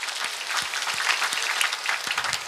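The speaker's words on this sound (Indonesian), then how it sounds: "Tepuk tangan sepindah malih kangge Pak Bowo, Pak Fuad." Audience applause at an Islamic religious gathering on stage, steady clapping from a crowd lasting throughout at moderate level with no talk over it.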